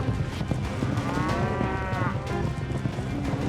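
Cattle low and bellow loudly during a nighttime roundup in Alabama, a drawn-out moo rising over a dense, noisy herd with constant shuffling and clatter.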